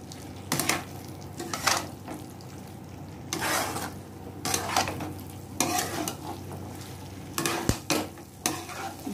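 Chickpea curry masala stirred and fried in a pan produces bursts of scraping and sizzling at irregular intervals, close by, over a low steady hum.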